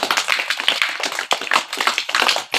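A crowd applauds at a village felicitation ceremony in Khanapur, with dense, continuous hand clapping that stays loud and steady throughout.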